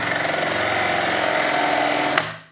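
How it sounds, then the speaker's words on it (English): A steady, continuous power drill whir with a grinding edge as a 3/4 inch Forstner bit bores a shallow hole, running loud and close for about two seconds before cutting off abruptly. "take a 3/4 inch Forstner bit and drill a really shallow half hole"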